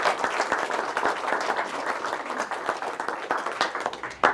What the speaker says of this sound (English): give a warm round of applause to Mrs. Joy Milton.